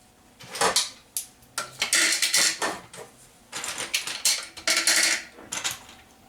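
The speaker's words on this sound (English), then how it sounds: "I'm going to throw them into my food processor here. I'm going to break them down some more." Peeled candy canes rattle and crunch inside a food processor in short, choppy bursts, a hard clattering grind that starts and stops several times with brief pauses between pulses.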